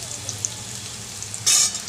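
Papaya, potato, carrot and green banana pieces tipped into hot oil for a home-style Bengali shukto, giving a steady close sizzle that surges loudly near the end as they hit the pan.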